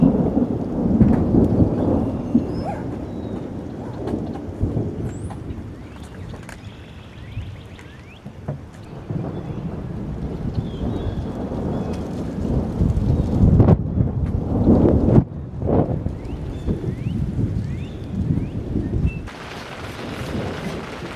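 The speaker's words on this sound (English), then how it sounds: "It's definitely a thunderstorm coming in." A thunderstorm rolls in over a forest campsite in Iowa, deep rumbling thunder running throughout with rain falling steadily and a few louder cracks and surges, no talk.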